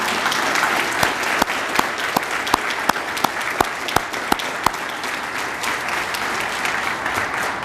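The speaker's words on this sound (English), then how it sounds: "let's give this Fab Four one big round of applause" An audience applauds at a retirement tea, a steady wash of clapping with a few louder, sharper claps standing out near the front, sustained throughout.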